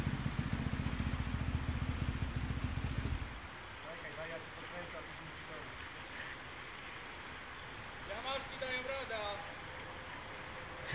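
An Ursus 30 tractor engine chugs loudly and rhythmically close by while crossing a river, then cuts off after about three seconds, leaving flowing water and voices talking.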